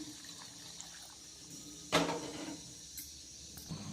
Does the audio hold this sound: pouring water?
yes